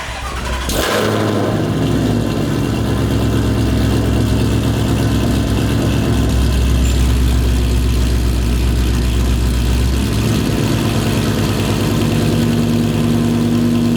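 A sports car engine turns over and settles into a deep, rumbling idle with a steady throaty exhaust note, loud and close throughout.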